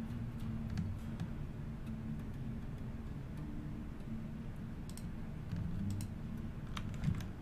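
Soft clicks of a computer mouse and keyboard keys while playing Dwarf Fortress, close and quiet, tapping in an irregular steady pattern over a low background hum.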